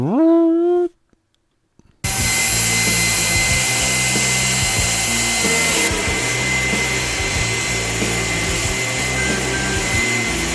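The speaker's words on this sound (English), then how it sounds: "this is a jet turbine engine over here" A jet turbine engine runs at high RPM, its loud steady whine and roar holding unbroken for about eight seconds after a brief voice and a short pause.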